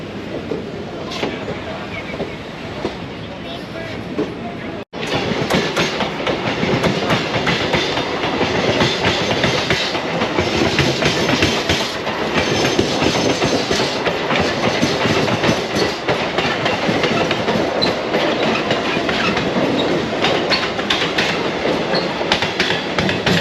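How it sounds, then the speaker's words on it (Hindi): An EMU local electric train rumbles past loudly and close near Sahibabad station, wheels clattering rhythmically over the rails in a continuous roar, with some talk faintly underneath. "दोस्तों ये EMU ट्रेन मतलब लोकल ट्रेन है"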